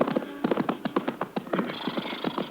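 Horse hooves clip-clop steadily at a walking pace in a 1950 Texas Rangers radio western, a close, rhythmic series of hard knocks with no talking.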